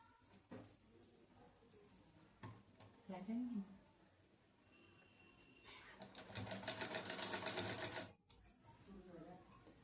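A sewing machine stitches fabric in short bursts, with a louder sustained run near the end, while someone speaks Hindi over quieter handling noises.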